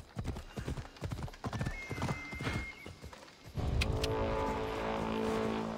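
Horse hooves clopping while riding in the Assassin's Creed Odyssey video game, a rapid rhythmic clatter through the first half, then broadband rushing game sound takes over.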